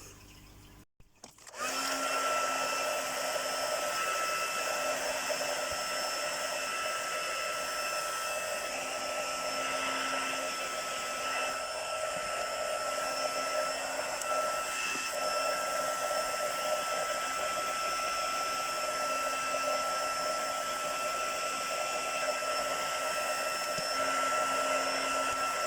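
A hair dryer blows steadily to dry ink on paper, starting abruptly after a brief click and holding a loud, constant whine and rushing airflow throughout with no talk.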